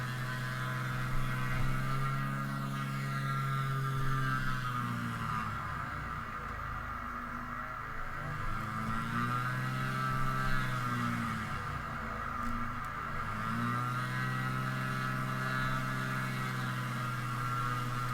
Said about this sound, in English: I'll give you the engine noise